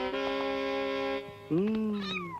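A cat gives a long, steady meow and then a rising, strained yowl, close and fairly quiet, in a scene where it is vomiting after eating thin ham.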